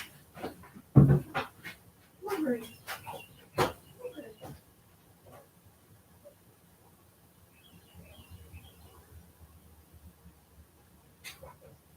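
A dog pants quietly indoors, with soft breathy bursts, some louder thumps and clicks, faint chirps, and low background noise.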